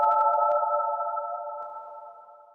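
A sample loop played through Maschine with a long reverb time: a few short percussive hits at the start, then sustained tonal ringing that slowly fades, with no talk.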